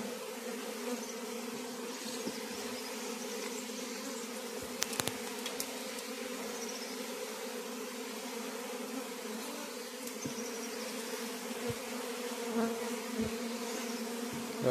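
Honeybees buzz around a traditional clay beehive, a steady, dense hum of many wings holding at an even level throughout, with no talk over it.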